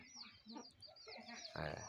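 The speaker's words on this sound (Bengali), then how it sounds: "দেখেন মুরগি বাচ্চা উঠছে" Chickens with chicks at a rural home, clucking in short bursts with a louder flurry near the end over a busy background.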